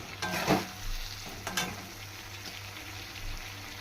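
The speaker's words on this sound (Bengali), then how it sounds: "এখানে মশলা কষানো হচ্ছে" Spices sizzle and fry in a pan with potatoes and raw banana pieces for a fish curry, a steady hiss broken by a couple of sharp stirring scrapes and clinks near the start.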